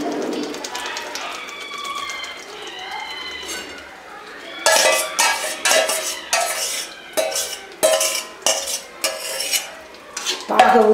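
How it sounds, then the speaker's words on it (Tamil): A spoon scrapes and clatters steadily around a pan of jackfruit halwa after syrup is poured in over a slow flame, loud close strokes in an uneven rhythm through the second half, with a voice and soft kitchen sounds before the stirring starts. "பாகை ஊற்றிட்டு கிண்டிக்கிட்டே இருக்கணும்."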